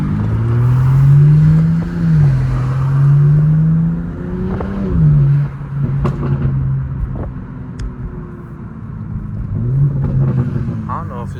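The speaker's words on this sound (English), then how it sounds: "the turbos seem to be louder too with these new downpipes" A BMW M4 Competition fitted with new downpipes revs loudly and close by, its engine note rising and falling in repeated surges with a turbo whir above the rumble.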